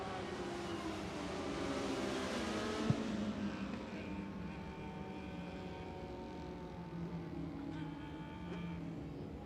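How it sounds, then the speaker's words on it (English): Dwarf cars roar around a speedway oval, a steady, loud blur of engines sustained throughout with a faint pitch shift as they pass, mixed with crowd and faint commentary underneath. "coming out of turn number 4 for the last time, Matthew Hopper takes the Dwarf car feature"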